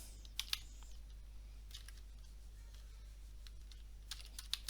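A computer keyboard is typed on in a quiet room, with a few scattered, soft keystrokes in small clusters over a low steady hum.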